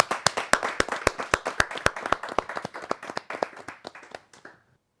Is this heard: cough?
no